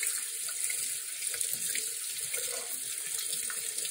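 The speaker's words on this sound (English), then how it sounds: "rinse them under cool water until" Cool tap water runs steadily into a sink, rinsing tie-dyed bandanas until the water clears, a continuous close hiss with a faint trickle beneath.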